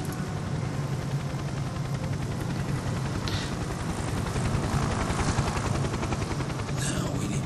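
Rapid rhythmic rotor chop of a helicopter in the naval strategy game Naval War: Arctic Circle, steady and moderately faint, with no talking.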